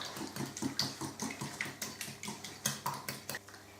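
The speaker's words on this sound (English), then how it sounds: "we need to beat this egg" An egg being beaten in a bowl with a utensil while making Welsh cakes, giving a steady run of rapid clinking, tapping strokes, close and fairly loud, with no talk.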